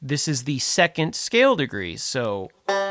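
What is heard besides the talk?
No distinct noise like a dog, phone or traffic.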